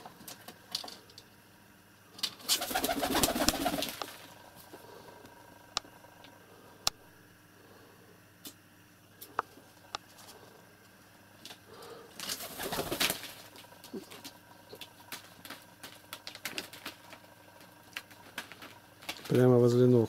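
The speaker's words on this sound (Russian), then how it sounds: "Голубей выпускаю." Released pigeons coo close by, with soft scattered coos and brief wing-flutter bursts over a quiet background.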